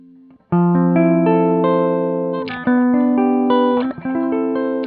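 Electric guitar played through a ZOOM G1 X FOUR multi-effects processor with amp and cabinet simulation, sustained clean chords ringing out, changing twice, loud and alone with a slight sliding pick noise between chords.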